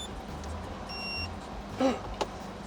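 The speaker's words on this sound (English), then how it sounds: "I've shut that up. It's something to do with the alarm." Mercedes Sprinter van alarm giving a brief high electronic beep followed by two short chirps, over steady background noise with no talk.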